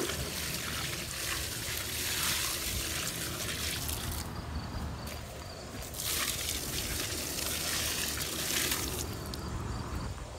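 Water pouring from a DIY 80-gallon backyard rain barrel into a garden, a steady close trickle and splash that swells and eases in a few long waves.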